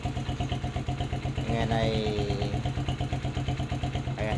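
A Rusi 125 motorcycle, just given a top overhaul, idles close by with a steady, evenly pulsing putter throughout, while someone speaks briefly over it.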